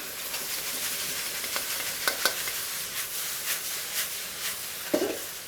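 Noodles sizzle loudly in a hot wok just after dark soy sauce goes in, a dense steady frying hiss with a few clinks of stirring, close up and without talk.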